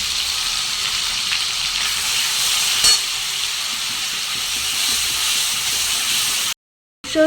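Onion, tomato paste and ginger-garlic paste sizzle in hot oil for a tarka, a loud, steady, close frying hiss that runs for several seconds before a brief cut-off.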